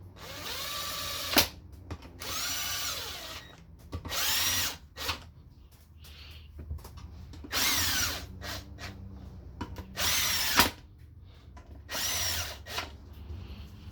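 Power drill working in repeated bursts while parts come off a 1998–2002 Honda Accord transmission during a rebuild, close and loud, with quieter mechanical clatter and handling noise between the runs.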